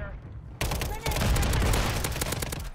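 Rapid automatic fire from a WSP-9 submachine gun in Modern Warfare 3 multiplayer: a sudden, loud, close stream of shots that starts abruptly and continues steadily, with a voice talking under it.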